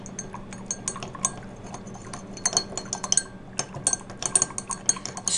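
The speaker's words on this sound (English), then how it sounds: "Now I'm going to take my stirring rod and I'm going to stir it in." A stirring rod clinks sharply against glass while stirring corn syrup, with a quick irregular run of small taps and scrapes over a faint steady hum.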